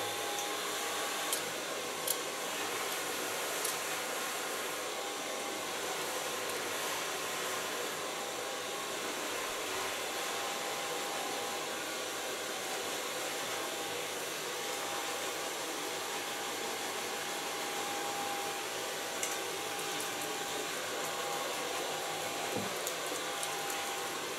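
A hair dryer blows steadily while blow-drying short pink pixie-cut hair, a loud continuous whooshing drone that stays constant from start to end with no talk.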